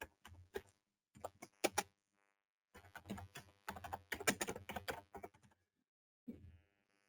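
Keys clatter on a computer keyboard in short bursts of quick, close taps separated by pauses, fairly quiet and with no speech over them.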